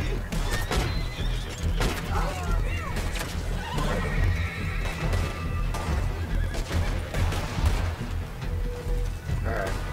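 A horse in Red Dead Online whinnies loudly and its hooves clip-clop in quick galloping rhythm amid crashes and game noise, with players talking throughout.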